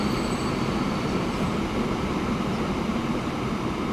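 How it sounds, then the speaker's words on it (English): A coal train rumbles past in the Transport Fever 2 game, a steady, dense low roar of rolling wheels and wagons that holds level throughout with no pauses. "there comes another coal train off from the side"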